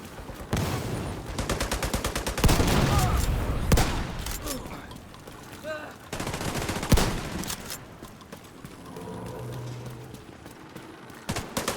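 Rapid bursts of gunfire from the Division 2 video game, set in New York, crack through a dense battle mix, with repeated volleys and single shots piling up over several seconds and loud, close action throughout.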